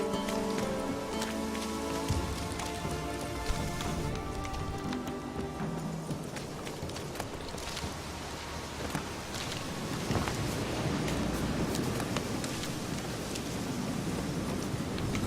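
Steady rain falls in the Witcher 3 video game world, a dense continuous hiss of drops on surfaces, with faint hoof clops and music tones fading early in the background.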